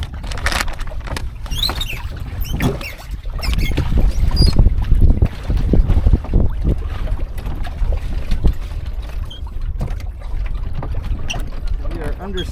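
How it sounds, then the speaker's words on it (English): Small sailboat under sail, with wind buffeting and water splashing and rushing against the hull, a loud continuous rough wash with irregular slaps and patter, close by. "We are under sail currently."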